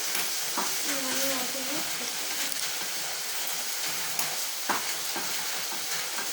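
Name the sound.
stirring liver fry in a pan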